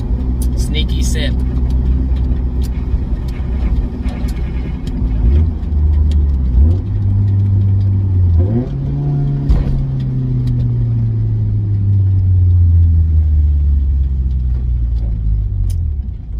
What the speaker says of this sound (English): Some nice downshifts.